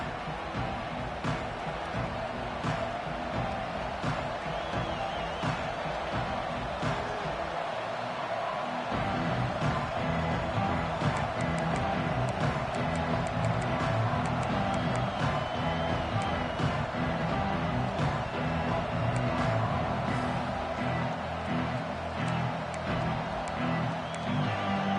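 A packed football stadium crowd at a Missouri versus Texas game roars steadily and loudly throughout, a dense sustained wall of cheering and noise with occasional whoops and claps rising from it.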